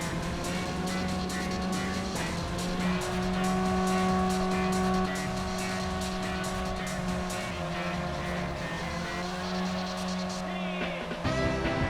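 Race car engine in the video game Touge Max 2, holding steady high-pitched whines that shift as gears change, with bursts of tire squeal through corners, continuous and fairly faint throughout, without talk.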